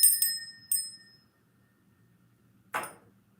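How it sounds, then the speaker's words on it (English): A small bell is rung three times in quick succession, bright and ringing, then fades out, followed by one softer strike near the end, heard alone over faint background hum. "Let's ring a bell"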